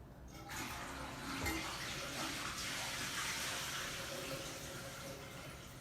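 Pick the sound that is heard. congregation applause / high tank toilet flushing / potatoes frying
high tank toilet flushing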